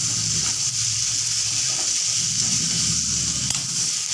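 Boiled chickpea ghugni, made from soaked kabuli chana, going into a hot pan and setting off a steady, close, loud sizzle with a broad frying hiss that holds without pause and has no talk over it.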